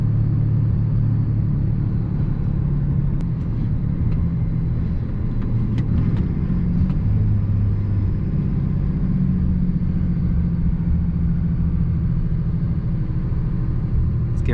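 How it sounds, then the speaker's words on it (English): A Cummins diesel pickup with a six-speed transmission rumbles loudly and steadily from inside the cab, its deep engine drone holding for a long stretch with faint clicks and light rattles over it. "Let's listen to this engine."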